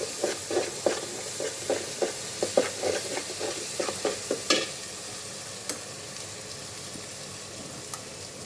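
Garlic frying in oil in a pan for a rohu fish curry, with a series of rhythmic scraping stir strokes over a soft sizzle that thins to quieter frying with a few isolated clinks.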